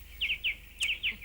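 A small bird chirps from its nest built just above head height inside a home: four or five short, bright, close chirps in quick pairs over a quiet background.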